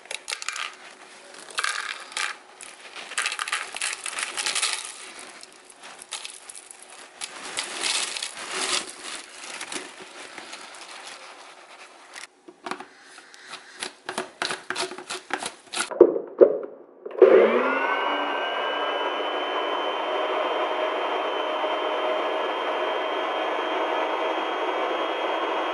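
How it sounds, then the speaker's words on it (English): Dried cayenne peppers, stems removed, being processed into powder: rattling, clattering pieces tumble for several seconds before a blender motor starts and runs as a steady, loud whine to the end, with no talk. "So now that we got all the stems off of our cayenne peppers, all we have to do now is grind them up."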